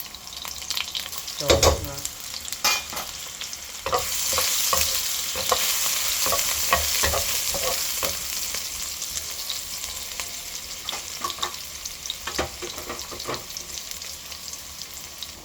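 Onion and garlic fry in fresh cooking oil in a pan for tom yum seafood fried rice, sizzling steadily up close while a spatula stirs and scrapes in repeated clatters; one brief spoken word.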